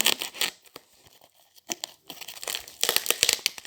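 Soap packaging being cut and torn open, short bursts of crinkly tearing and crumpling up close, separated by brief pauses.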